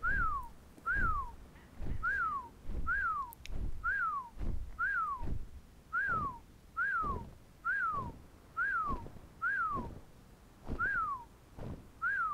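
Repeated whistle command in the video game Ark: Survival Evolved, a series of about eleven short rising-falling whistles at a steady, roughly one-per-second rhythm, clear and alone over faint low game noise.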